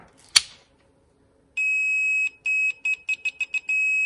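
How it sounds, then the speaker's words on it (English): Multimeter continuity tester beeping while probing wiring on a farm water system: a sharp click, then a steady high tone followed by a string of short irregular beeps as contact makes and breaks. "I thought I'd measure continuity when it's in the on position."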